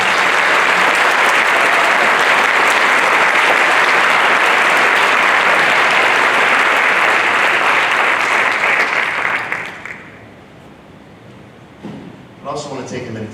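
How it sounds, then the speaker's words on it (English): Sustained audience applause for a high school band filling a school auditorium, loud and dense for about nine seconds before fading into quiet room sound and a few last claps. "And if we could give them a round of applause."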